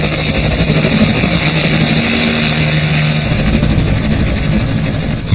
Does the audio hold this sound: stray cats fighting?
no